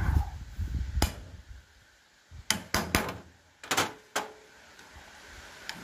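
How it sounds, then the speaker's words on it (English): Sharp metallic hammer blows ring out during removal of a BA7 four-speed gearbox from a Peugeot 404 station wagon, several spaced strikes in short bursts, close and loud over low wind rumble. "There's the hammer."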